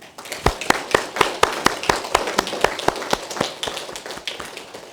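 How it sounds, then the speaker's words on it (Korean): A church congregation claps in praise during a worship service, with loud, close, fairly regular hand claps in a quick steady rhythm, gradually loosening and fading toward the end. "우리 하나님께, 우리 예수님께 감사와 찬양과 존귀의 박수를 한번 드립시다."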